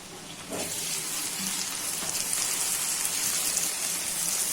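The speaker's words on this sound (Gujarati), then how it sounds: "ડુંગળી સરસ સતળાઈ ગઈ છે હવે ટામેટું નાખી દેશું" Onion and tomato fry in hot oil for vagharelo rotlo, a steady, even sizzle close by that swells slightly after the first half second and holds alone without talk.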